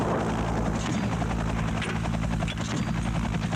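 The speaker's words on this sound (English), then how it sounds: "An Afghan Air Force Mi-8 attack helicopter arrives." An Afghan Air Force Mi-8 helicopter arrives with a loud, continuous rotor thump and engine roar, the rapid blade chop pulsing steadily throughout.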